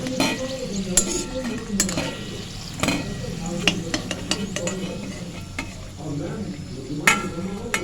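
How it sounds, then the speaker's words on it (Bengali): Veg moglai paratha frying crisp in oil in a wok, a bubbling sizzle punctuated by repeated sharp metallic clinks and scrapes of a spatula against the pan. "আওয়াজটাতেই বোঝা যাচ্ছে কড়াইয়ে বোঝা যাচ্ছে কতটা মুচমুচে হয়েছে"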